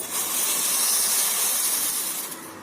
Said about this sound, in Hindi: देखिए, तुलसी के पत्ते में उबाल आ गया है